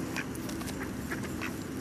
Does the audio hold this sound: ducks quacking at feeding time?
yes